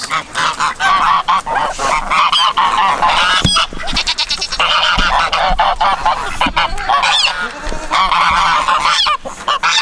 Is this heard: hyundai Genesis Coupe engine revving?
no